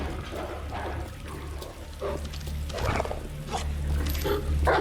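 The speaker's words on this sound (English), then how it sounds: "they start barking at the fence" Several dogs bark in bursts at a fence in Resident Evil 2, sharp repeated calls over a low ambient game rumble.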